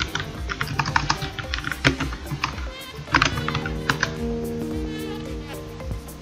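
Rapid clicking keystrokes on a computer keyboard, close and fairly quiet, in quick irregular bursts with short pauses.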